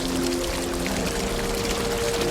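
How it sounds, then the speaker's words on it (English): A jungle waterfall on a trek in Khao Sok, Thailand, roars as a steady, loud rush of falling water, continuous and close, with a faint tonal hum running underneath. "Finally, we arrived to the waterfall."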